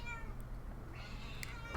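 A cat meows once in the video game Jimmy and the Pulsating Mass: a short, clear mew over steady low game ambience, with no talking.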